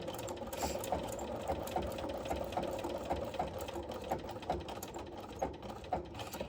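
Sewing machine stitching: a fast, steady mechanical whir with rapid rhythmic ticking of the needle, moderately quiet and close, running continuously without any talking.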